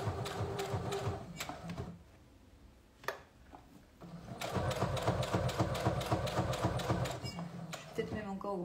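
A domestic sewing machine stitching thick fabric for bear-shaped slippers, with a wide stitch setting. It runs in a fast, steady mechanical chatter, pauses briefly with a click, then resumes for a longer stretch, close and clear.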